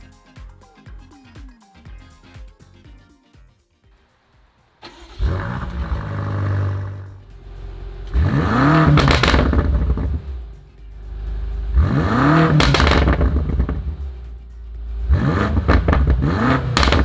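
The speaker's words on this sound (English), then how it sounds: "but let's get the car started." A 2019 BMW M5 Competition starting up and revving: soft ticking and clatter first, then the engine catches with a loud roar and settles into idle, followed by three sharp, powerful revs that rise and fall, close and clear.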